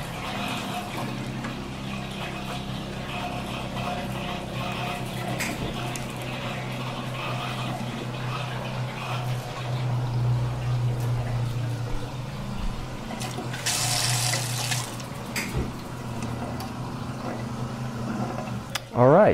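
Water runs steadily from a hand washing sink tap in a room with a low hum, a brief louder rush of flow midway.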